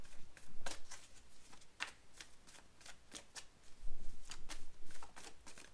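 Tarot cards are shuffled and drawn close up: soft, quiet riffling flutters and crisp card snaps come in irregular bursts.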